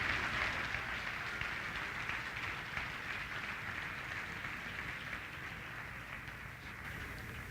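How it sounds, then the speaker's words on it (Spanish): Congregation applauding during a Spanish-language church service, a faint, steady wash of many hands clapping from a distance, lasting throughout without a voice over it. "Dale un aplauso al Señor esta mañana."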